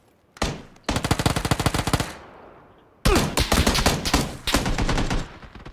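AK rifle fire in PUBG, two loud, rapid automatic bursts heard close, the first about a second long and the second a sustained volley of nearly three seconds, with no talk.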